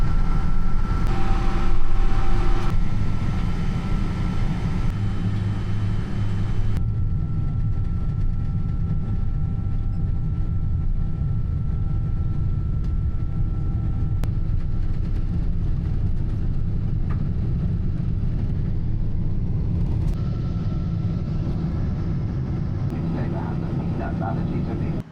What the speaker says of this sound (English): we have pushed back, we are taxiing to the runway